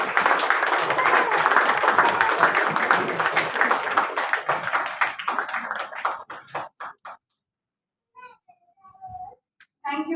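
Audience applause at a women's award ceremony: dense, loud clapping from a crowd for about six seconds, thinning into scattered claps and fading, followed by brief voice fragments near the end.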